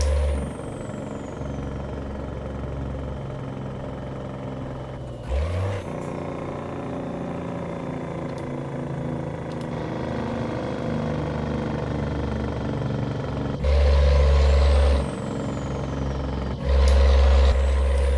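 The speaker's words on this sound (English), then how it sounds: "I'll let you guys hear the Jake break." A modded video-game truck engine with a Jake brake rumbles and idles, then breaks into loud, deep bursts of engine braking with sharp hissing releases near the end.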